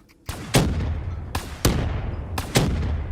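Three loud, sharp gunshots with booming low tails ring out at roughly one-second intervals in Call of Duty Zombies, each shot echoing away before the next, no talking.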